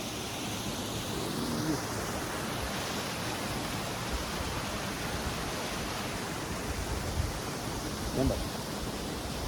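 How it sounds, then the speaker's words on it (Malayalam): Waterfall at Poço do Inferno in Portugal, a steady, loud broadband roar of falling water that fills the whole clip without pause, with a few faint voices briefly rising above it. "വാട്ടർഫോളാ."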